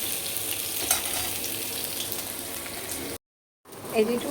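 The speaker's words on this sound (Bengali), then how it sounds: "এদিকে মা ভেজে নিচ্ছি" Food frying in a pan at home in a Bengali kitchen, a steady broadband sizzle with a faint stir, cut by a brief silent gap before the frying resumes.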